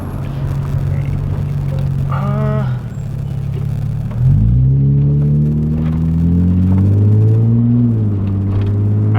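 Nissan 350Z sports car with a new aftermarket exhaust, header and test pipe, a loud close rumbling idle that rises into a steady revving drone with pitch swells, heard from inside the car.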